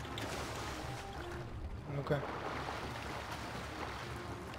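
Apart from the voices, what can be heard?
speedboat engine in GTA 5 Online video game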